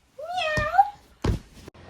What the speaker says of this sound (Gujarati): બિલાડો આવ્યો